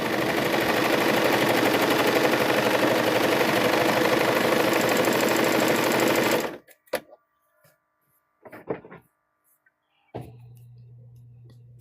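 A five-thread serger sews the last seam of a microwave bowl koozie with a loud, steady mechanical whir for about six seconds, then stops abruptly, leaving a few faint clicks and a low hum.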